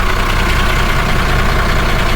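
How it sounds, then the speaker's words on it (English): Two boat engines idling together at their first start of the season, a loud, close, steady rhythmic chugging rumble with an even mechanical knock and no voices. "Both engines seem to be making round about the same sort of racket"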